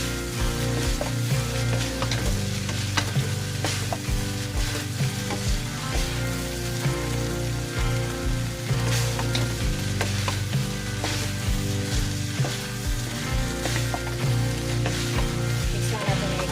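Ground beef and carrots fry in a pan with a steady close sizzle while a utensil stirs them, its scrapes and knocks on the pan recurring throughout.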